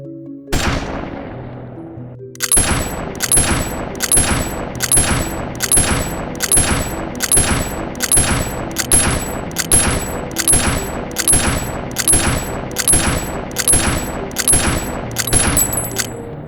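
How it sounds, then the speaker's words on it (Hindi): AK-47 rifle firing in fully automatic mode in a 3D animation: one isolated shot, then a long steady stream of about a dozen evenly spaced, loud, sharp reports with metallic ringing, no voices. "इस तरह फुली ऑटोमेटिक मोड पर राइफल तब तक फायर करती रहती है जब तक ट्रिगर को रिलीज नहीं कर दिया जाता"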